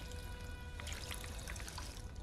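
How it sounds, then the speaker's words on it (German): Water fountain in the video game Fallout 4 pouring steadily, a faint continuous splashing trickle with no talk over it. "Wasserbrunnen."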